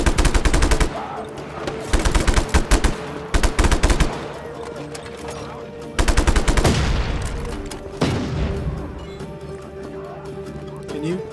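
Bursts of assault rifle fire in the video game Just Cause 3, loud rapid volleys in several separate strings with pauses between, alongside someone talking over the action.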